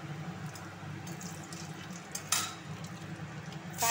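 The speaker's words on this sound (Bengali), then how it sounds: "প্রথমে কড়াইতে তেল দিয়েছি, এর আমি দেব কয়েকটা রাঁধুনি, একদম সিম্পল রান্না হবে, কয়েকটা শুকনো লঙ্কা" Dry red chillies and radhuni spice fry in hot oil in a wok, giving a steady soft sizzle and crackle with a couple of brighter spits near the end, fairly quiet and with no voices over it.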